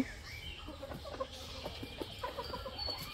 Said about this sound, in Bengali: আর এটা হলো আমার দেশি মুরগি